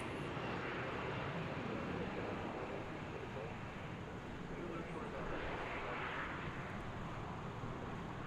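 A steady, broad roar of airplane noise at DFW Airport, with an American Boeing 787-9 Dreamliner taxiing nearby, blending with constant wind over the microphone, continuous and fairly loud throughout.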